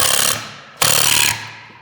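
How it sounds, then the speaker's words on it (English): A power drill bores into a trail camera mount in two loud, gritty bursts, the second starting after a brief pause and both ending abruptly. "you're gonna try to drill kind of straight in"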